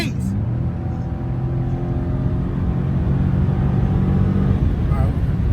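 A Dodge 392 Scat Pack being driven hard in a chase gives a loud, steady low engine rumble that swells slightly near the end, heard close and unbroken throughout.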